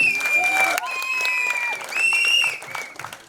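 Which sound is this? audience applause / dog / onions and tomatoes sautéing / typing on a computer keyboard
audience applause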